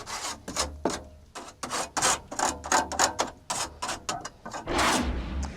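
Repeated scraping and rasping strokes as dried chicken poop that would not break up is scraped out of a chicken coop, close and fairly loud in an uneven rhythm, with no talk.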